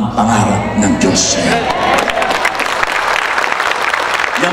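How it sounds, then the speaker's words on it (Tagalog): Loud applause and cheering from a church conference audience in Qatar, many hands clapping with whoops and shouted voices mixed in, sustained and close throughout. "Yan palakpak ninyo."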